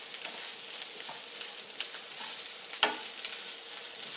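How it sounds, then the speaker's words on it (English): Sesame seeds toast in a hot pan for a vegan dinner, giving a soft, even sizzling hiss with a few sharper pops and light stirring scrapes, quiet and close, no voices. "once the sesame seeds start to heat up and get a little toasted"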